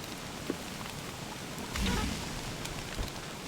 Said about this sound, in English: I don't think I've ever seen it start raining in summer